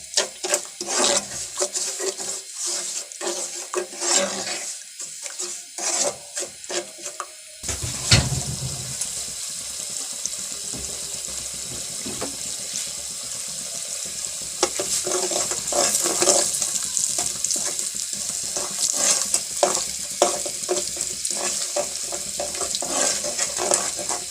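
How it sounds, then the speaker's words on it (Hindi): Semolina roasting in desi ghee over low heat in a pan, a steady soft sizzle with scraping stir strokes and some watery clatter, continuous and close throughout. "सूजी को भी हम हल्की आंच पे और बिल्कुल गोल्डन सा भूनेंगे"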